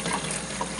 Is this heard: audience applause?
no